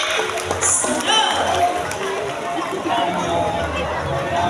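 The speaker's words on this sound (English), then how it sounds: "The round of applause for a great mathematician, Snow." Crowd applause and cheering at a bird show at Ocean Park in Cebu City, a steady loud wash of clapping with crowd hubbub throughout, no clear words.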